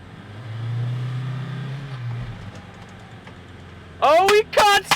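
A cheap Toyota truck engine runs with a low rumble that swells early and then fades back, before a voice cuts in over it near the end.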